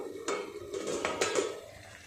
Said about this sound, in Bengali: ঢাকাটা এবার খুলে দেখি কেমন সিদ্ধ হলো ঝিঙে আলু।